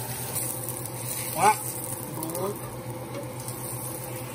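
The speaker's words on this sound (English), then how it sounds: "I want to hear that sizzle." A black bean burger fries in hot oil, giving a steady low sizzle under the whole stretch, while a person speaks a single brief exclamation over it.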